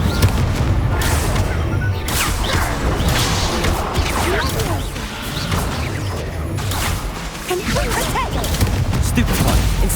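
Rapid spell-casting bursts from a wizarding action game, with fiery Incendio blasts mixed among booms, crashes and other combat effects in a dense, continuous barrage while a voice calls out spell names.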